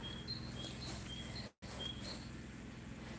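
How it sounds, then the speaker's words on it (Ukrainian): A small bird sings in a garden at a country dacha after rain, with thin, high chirps and short whistled phrases repeating at a distance over a quiet outdoor background, briefly cut by a gap in the middle. "Чуєте, як гарно виспівує пташка."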